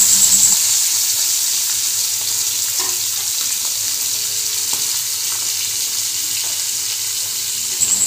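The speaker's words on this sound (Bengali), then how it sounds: "মাছগুলো কিন্তু আমি হালকা করেই ভেজে নেব" Fish sizzle lightly in hot oil in a heated pan, a steady close frying hiss with faint crackles running throughout, no voices over it.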